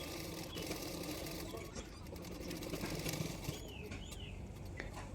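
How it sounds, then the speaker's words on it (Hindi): A sewing machine stitches along the edge of an extra fabric strip on a princess-cut blouse, giving a fast continuous mechanical whir with rapid rhythmic needle ticking, close and steady throughout. "एक्स्ट्रा फैब्रिक के ऊपर किनारे किनारे पे मैंने सिलाई कर दिया है"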